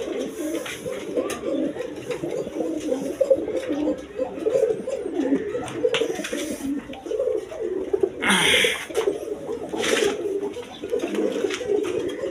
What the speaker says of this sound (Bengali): এগুলো হাই ফ্লাইং গিরিবাজ কবুতর।